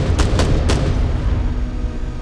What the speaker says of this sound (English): You're going to want to avoid that mech's gunfire